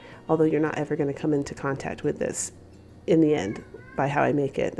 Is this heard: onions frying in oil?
no